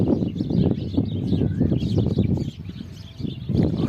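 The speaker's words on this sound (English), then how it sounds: "as you can hear the sound of birds around here" Birds perched in trees outdoors give faint, scattered chirps and whistles that sit within a busy, rumbling open-air background, with no clear individual call standing out.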